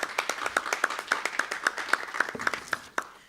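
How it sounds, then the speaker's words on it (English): Audience applause at a conference of African finance and planning ministers in Marrakech, a steady run of dense hand claps from a crowd, fairly close and continuous, fading out at the end. "Please give him a warm round of applause."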